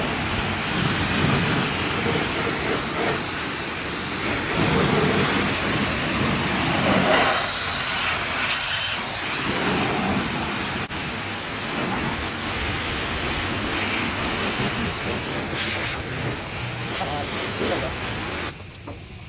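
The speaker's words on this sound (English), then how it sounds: "first thing we're gonna do is the high pressure rinse." A high pressure water rinse at a car wash on an H22A Honda Prelude, a loud, continuous rushing spray drumming against the car, with spray patterns shifting over time.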